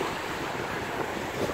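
Sea waves wash steadily onto Vityazevo beach near Anapa on the Black Sea, close to a pier, with a continuous broad rush of surf mixed with wind buffeting the microphone and no voices.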